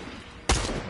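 A single sharp gunshot from the Fortnite video game cracks out loud and close over a quiet game background, with a short decaying tail.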